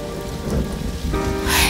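Steady rain pours down in a dense, even hiss, with a brighter, louder wash of falling water building near the end and a faint tonal layer underneath.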